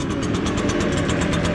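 Echo backpack leaf blower engine idling outdoors in cold weather, a loud, steady two-stroke drone with a fast rhythmic pulse and strong rushing air, close to the microphone with no talk.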